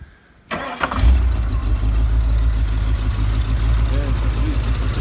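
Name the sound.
Ford XE Falcon police car engine idling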